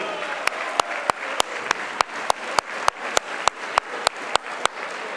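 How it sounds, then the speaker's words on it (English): A reunion-night audience applauds a class group of about forty, a steady wash of clapping with sharp individual claps standing out at a regular beat, continuous and fairly close for several seconds. "A very big round of applause to that group."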